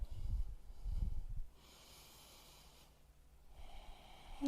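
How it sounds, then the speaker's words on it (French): Close, audible breaths from a person holding a vinyasa yoga pose in a hamstring-flexibility session: two heavy, snorting exhales in the first second and a half, then near-quiet room tone. "Prends le temps de respirer ici."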